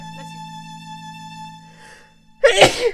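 A single sharp sneeze bursts out at the end, loud and close, after a quiet stretch over a steady electronic hum.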